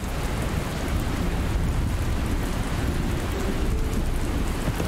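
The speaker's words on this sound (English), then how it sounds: "Alright, back to Starlight City and this rain again." Rain and thunder from the video game Dustland Delivery fill the scene, a steady loud downpour hiss with a deep rumbling undertone, continuous and unbroken.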